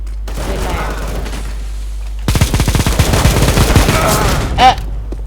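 Rapid gunfire in the video game CS:GO, a dense burst of shots starting abruptly mid-clip and rattling on loudly for about three seconds, following a quieter stretch with faint background game noise.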